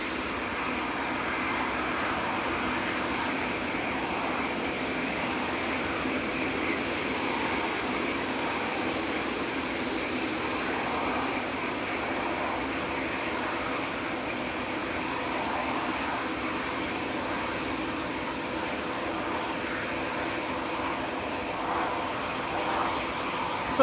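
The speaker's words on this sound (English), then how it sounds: "It's a 787-9, a 7-year-old aircraft, operated by TUI Fly Nordic for TUI" A seven-year-old TUI Fly Nordic Boeing 787-9 Dreamliner, arriving from Cancun, lands and rolls off runway 23 right at Manchester Airport with a sustained rumbling engine roar, moderately loud and steady, no speech over it.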